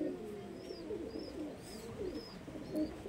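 Pigeons coo steadily in a low, rolling murmur, several birds overlapping close by, with a faint repeated higher chirp above them.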